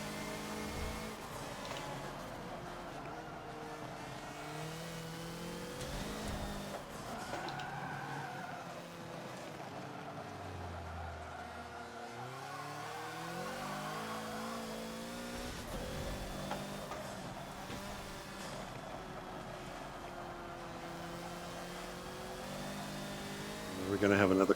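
A Hoonigan Ford Focus races around the Maple Valley short circuit in the Forza racing game, its engine droning steadily and shifting pitch as it brakes and accelerates, with tyres scrubbing through the corners while someone talks over it.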